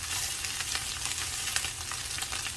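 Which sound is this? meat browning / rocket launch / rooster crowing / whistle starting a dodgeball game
meat browning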